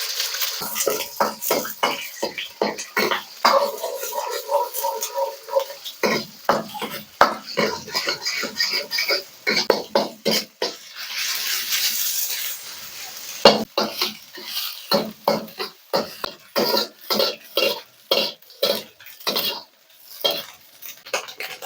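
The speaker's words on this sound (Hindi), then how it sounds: "ये इस तरह आपकी वोक स्मोकिंग हॉट होनी चाहिए। इसमें आप 3 अंडे डालें।" Three eggs fry in smoking-hot cooking oil in a wok, with a loud sizzle broken by rhythmic scraping and clanking of a spatula against the metal, while a voice speaks now and then.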